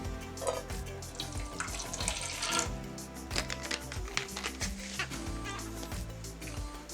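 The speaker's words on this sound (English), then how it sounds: "So first thing to do, pour a bit of water in there and find out." Water is poured into a prototype container to test whether it holds, giving a continuous close splashing and trickling with fluctuating gurgles throughout.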